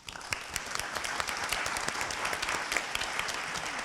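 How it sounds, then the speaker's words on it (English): Steady round of clapping from a forum audience thanking panelists at an asset management event, with many distinct hand claps close and crisp within a continuous wash of applause, no speech. "Please join me in giving them a round of applause."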